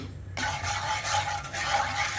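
Turmeric powder and salt stirred into heated oil in a pan: a steady, close scraping and stirring noise that starts abruptly and continues evenly, with no voices.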